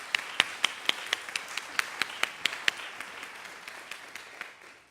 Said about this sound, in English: So let's give Terry a round of applause too,